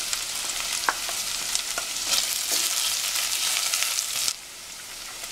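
Onion, garlic and pepper fry in vegetable oil in a pan, a dense close sizzle with occasional crackles and stirring, dropping suddenly quieter near the end.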